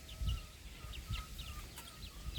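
Chickens, including a Cochin hen, clucking nearby, a few short clucks and soft calls over low rustling and scratching.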